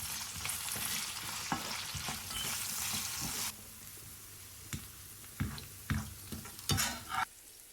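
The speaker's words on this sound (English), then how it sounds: "Next, add in large raisins, taking care not to burn them." Large raisins fry in hot oil for Afghan Kabuli pulao, a soft close sizzle broken by intermittent stirring scrapes and small pops, no talking.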